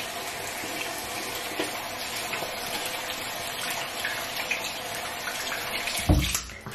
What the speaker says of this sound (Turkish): Elimi yıkıyorum.